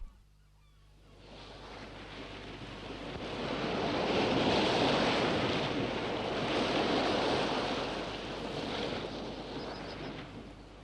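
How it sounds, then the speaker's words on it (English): Continuous roar of sea waves breaking with gusting wind on the West Cork coast of Ireland, swelling and easing over several seconds, no voices. "it is invaded by the sounds and colours of the sea"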